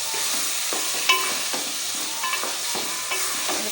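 Potato curry is stirred in a pan, with a spoon scraping and tapping in an uneven rhythm over a constant soft sizzle, close and without speech.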